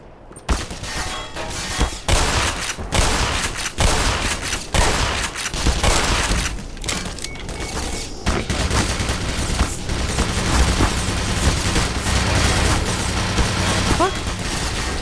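Automated turret gunfire in the Half-Life fan remake Black Mesa: dense, sustained rattling bursts that barely let up for about fifteen seconds, loud and close, with a voice talking over parts of it.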